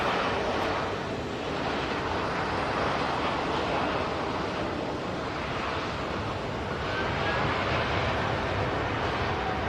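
Turkish Airlines jet rolling down the runway at Manchester Airport, a broad steady roar with wind on the microphone, swelling and easing slightly at a distance.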